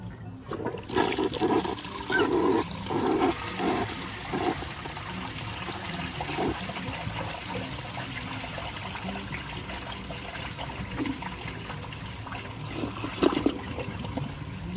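A 1985 Briggs conserver toilet flushes with a loud initial rush of water that settles into steady swirling and trickling, no voices over it.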